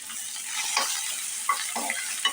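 Onion and green chilli frying in a pressure cooker for dal khichdi, a soft steady sizzle broken by several brief scraping strokes of a stirring spoon.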